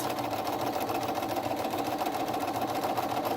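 A sewing machine sews a straight-stitch border seam on a hexagon quilt, humming in a steady, loud, continuous run from start to finish with no voices.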